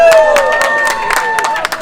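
Applause from an outdoor crowd in Dijon during a June 2021 street performance staged as a mock demonstration of the ultra-rich, with sharp claps over a steady tonal background and voices.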